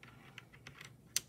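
A Cherry keyboard marked "dark matter" clicks quietly as several keys are tapped in a bedroom, a sparse run of soft taps ending in one sharper, louder keystroke.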